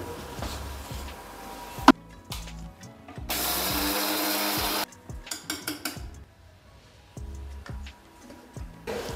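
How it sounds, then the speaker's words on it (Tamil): A mixer grinder whirs steadily for a couple of seconds as it grinds roasted green gram and almonds, surrounded by kitchen clatter and taps from a lid or jar. "பச்சைப்பயிறு பாதாம் போட்டு இதை அரைச்சி கொண்டு வந்துடுறேங்க"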